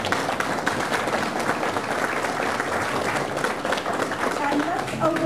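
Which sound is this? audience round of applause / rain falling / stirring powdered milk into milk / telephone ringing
audience round of applause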